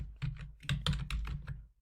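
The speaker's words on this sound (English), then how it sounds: "next I'm going to enter into the Python Interactive by typing Python" Fingers type a short burst on a computer keyboard, about a dozen crisp, close key clicks in an uneven rhythm, with no talking.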